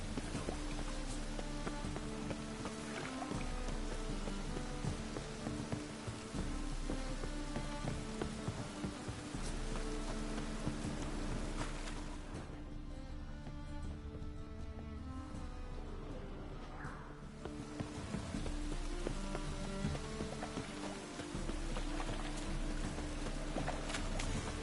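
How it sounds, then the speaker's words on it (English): Steady rain patters and hisses across surfaces in The Witcher 3, continuous and dense, with game music and ambience layered underneath and briefly thinning midway. "Looks like rain."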